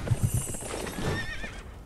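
A horse in the video game Sekiro: Shadows Die Twice gives a loud, quavering neigh after a few heavy hoof thuds, with no talking over it.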